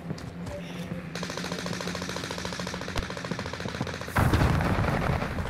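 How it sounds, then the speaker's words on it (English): Call of Duty: Modern Warfare gunfire rattles in rapid, evenly spaced automatic bursts. A single sharp crack cuts through, and a louder, harsher volley of shots breaks in near the end. "we got somebody shooting at us right here by this wood pile"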